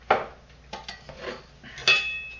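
Seasoned shrimp go into a pan for sautéing, heard as several sharp clattering metallic knocks of pan and utensil, spaced irregularly and fairly close, with no talk.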